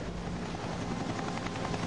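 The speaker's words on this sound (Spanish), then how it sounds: "El helicóptero de la Guardia Costera peleó durante una hora para intentar rescatarlos" A Coast Guard rescue helicopter flying in a storm, with a steady, dense rotor drone throughout.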